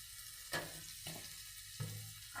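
Ginger-garlic paste and spices for Bengali-style chana masala fry in a pan, giving a soft steady sizzle broken by a few louder bursts as ingredients go in, with no talking.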